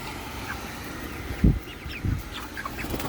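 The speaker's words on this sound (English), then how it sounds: "Watch these birds, how crazy they go over mealworms." Backyard chickens cluck and squabble over mealworms on a hot day, a couple of short, close clucks and scuffles standing out against a steady background hiss.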